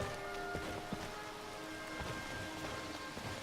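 Rain in the game Skyrim, falling on a cold mountain like sleet, a steady hiss with scattered droplet patter, quiet and continuous with no voices.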